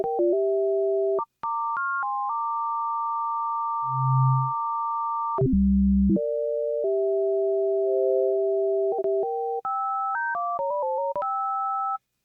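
Two pure sine-wave tones from a Roland Aira synthesizer sound together, holding steady pitches and stepping between intervals, with brief glides and a low hum in the middle; no talking.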